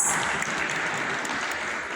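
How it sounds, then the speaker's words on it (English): Conference audience applauding: a steady, dense wash of many hands clapping together, fairly close and sustained throughout with no gaps. "please join me in giving them a big round of applause"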